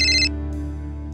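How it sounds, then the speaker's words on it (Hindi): A short electronic phone ringtone chirps briefly at the start, then a low steady hum continues underneath. "मीतू, तेरा फोन है।"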